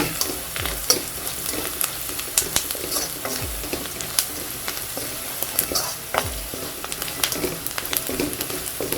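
Onions sautéing in oil in a pan for a black chana and radish kara kuzhambu, a steady sizzle with frequent stirring scrapes and utensil knocks, close and continuous throughout.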